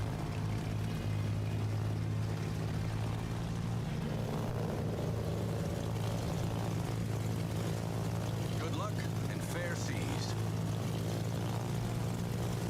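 Constant engine droning in Civilization VI, a steady low hum running unbroken throughout, with faint scattered game sounds over it.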